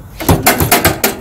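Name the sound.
John Deere 216 garden tractor engine cranking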